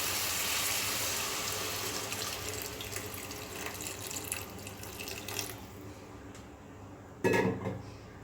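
Water pouring into a pan of pumpkin, pea and potato curry, a loud steady splashing rush that fades over several seconds, followed by a brief clatter of cookware near the end.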